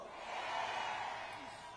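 A large crowd at a conservative political rally in Daegu roars and cheers in one sustained, distant-sounding wash of voices.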